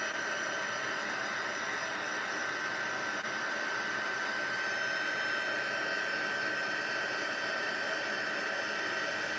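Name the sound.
heat gun heat embossing a stamped card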